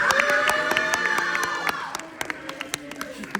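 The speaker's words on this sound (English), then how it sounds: "Can we give a round of applause?" An audience claps and cheers at a live event, the loud crowd noise thinning into scattered, sharp individual claps toward the end.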